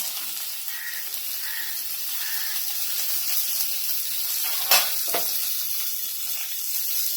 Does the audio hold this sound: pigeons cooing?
no